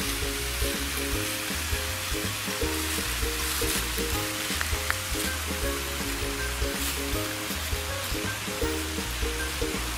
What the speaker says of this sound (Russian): Вот мы пришли к нашему водопаду.